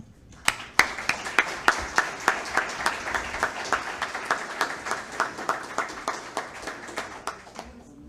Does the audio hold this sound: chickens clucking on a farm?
no